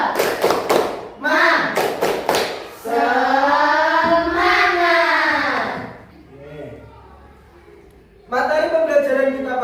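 A class in Semarang doing the rhythmic 'tepuk semangat' clapping ice breaker: short bursts of patterned, close claps alternate with loud group chanting.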